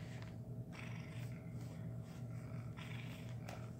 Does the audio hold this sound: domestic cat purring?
yes